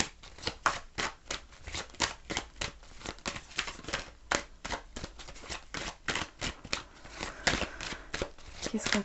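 Tarot cards are shuffled and riffled rapidly, a dense run of crisp slapping flutters close up and continuing throughout, with a voice speaking faintly underneath.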